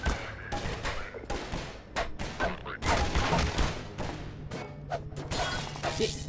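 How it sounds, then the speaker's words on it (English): Rapid bursts of gunfire in the video game Half-Life 2 strike and shatter a lamp, loud, sharp cracks repeating unevenly over several seconds, with talk mixed in. "The lamp just took a bullet."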